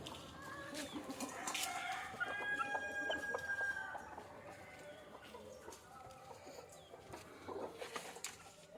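Free-range country hens cluck and squawk close by at an opened coop, with a rooster crowing partway through and faint background sounds of a farmyard.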